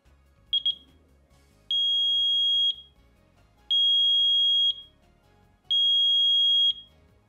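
A home smoke alarm test via its test button: a few short clicks, then three loud, long, high-pitched electronic beeps, each about a second, evenly spaced.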